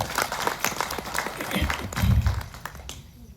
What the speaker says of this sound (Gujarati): એટલે બધા મારી બેન ગંગાને ખૂબ તાળીઓથી ગડગડાટથી ગડાવો.